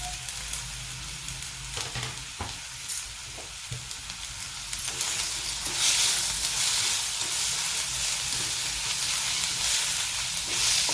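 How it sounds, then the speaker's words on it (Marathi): Chopped onion and curry leaves sauté in hot oil in a pan, making a steady sizzle with occasional stirring scrapes and clinks. It grows louder and brighter partway through, and no one speaks. "आता याच्यात हा कांदा घालत आहे हा कढीपत्ता घातलेला आहे"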